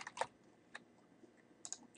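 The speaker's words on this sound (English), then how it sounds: "under each one of these sections, you're going to begin typing" Quiet, sparse keystrokes on a computer keyboard: a few isolated clicks and a short cluster of taps, faint and close, with no other sound around them.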